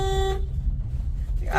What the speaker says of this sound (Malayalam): ഹോൺ അടിച്ചുകൊണ്ടിരിക്കുകയാണ്